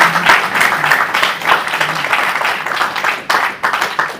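An audience claps through a continuous round of applause at a journalism school anniversary event. The clapping is steady and loud, with no talk over it.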